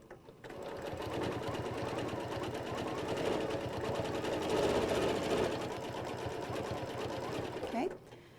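A sewing machine stitches quilt arcs with a steady, continuous mechanical whir from start to near the end, then stops. A voice may be faintly present.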